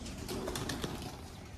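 Pigeons coo softly nearby, a few low throaty calls over a quiet background hum.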